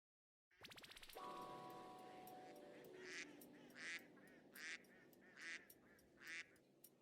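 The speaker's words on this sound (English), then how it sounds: "Laughing at birds." Geese or ducks honk in a loud run of repeated calls that carry on alone with no talk, following a sharp mechanical onset.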